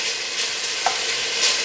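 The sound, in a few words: bacon frying in a pot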